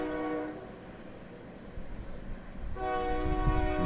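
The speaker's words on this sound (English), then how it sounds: "as you can possibly hear the train in the background" A train passes near a high school baseball field during an all-star game, its horn sounding in two long blasts separated by a rumbling pause, moderately distant with steady rail noise underneath.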